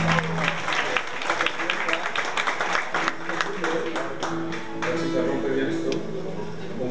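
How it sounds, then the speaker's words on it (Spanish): Audience applause at a gathering of tuna student music troupes marking one year, with dense, steady clapping throughout and voices and chatter mixed in beneath it. "Así que un fuerte aplauso."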